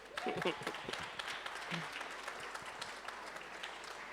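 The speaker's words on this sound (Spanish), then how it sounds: "Un aplauso para Dios." A church congregation applauds during a Spanish-language Sunday service, dense steady clapping at moderate distance, with voices mixed in at the start.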